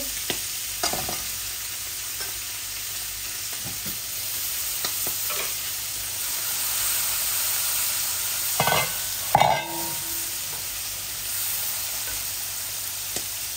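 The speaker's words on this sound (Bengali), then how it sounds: "মাছের মাছগুলো একটু লাল লাল করে ভেজে নিয়েছি।" Rohu fish pieces fry in a pan, browning until reddish, a steady soft sizzle running throughout with a few louder scraping stirs near the end.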